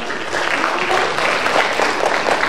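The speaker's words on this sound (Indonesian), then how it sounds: "Oke, tepuk tangan dulu dong buat" Audience applause fills a university public lecture and book launch, a dense, steady wash of many hands clapping at close range, sustained without pause and with no voices rising above it.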